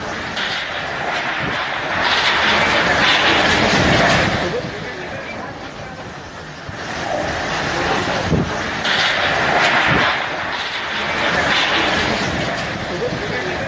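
Cyclone Nisarga's strong wind, gusting at 110 to 120 km/h along the Maharashtra coast, roars as a loud, continuous broadband rush that swells and eases in waves, with no voices over it.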